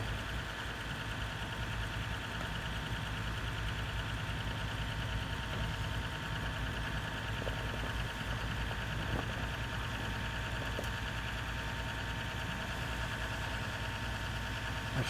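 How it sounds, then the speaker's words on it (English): A tractor engine idling in place to charge its battery and stay warm, a steady low rumbling drone heard at moderate distance throughout, with no other sounds. "My tractor's over there running just to charge the battery and keep the engine warm so we can move it."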